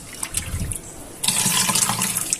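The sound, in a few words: water squeezed from sponge while emptying aquarium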